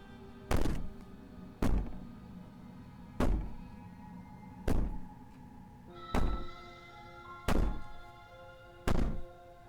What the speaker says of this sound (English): As she violently rattles the door